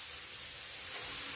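Grated carrots, about 1.5 kg, tipped into hot ghee in a large kadhai on a gas stove, giving a steady, loud, close sizzling hiss with no talking.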